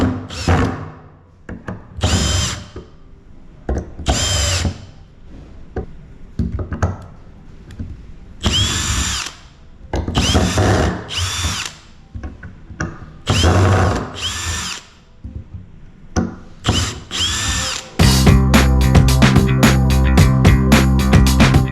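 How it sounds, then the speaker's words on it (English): Milwaukee M18 half-inch brushless hammer drill driver running in repeated loud bursts of a few seconds each, separated by short pauses, then a sustained steady hammering run at the end. "The Milwaukee M18 half-inch brushless hammer drill driver kit delivers the most power in its class while maintaining its compact size."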